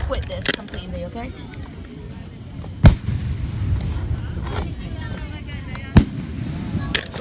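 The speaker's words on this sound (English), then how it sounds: "we're gonna just look at the fireworks" Fireworks go off outdoors, with two sharp loud bangs over a steady crackle and rumble, plus fainter pops scattered through the rest.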